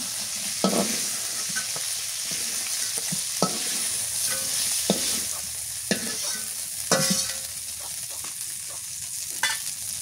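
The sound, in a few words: food being lightly fried in a pan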